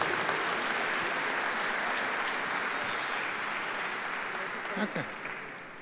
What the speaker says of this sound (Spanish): le damos un fuerte aplauso a ese regalo de Dios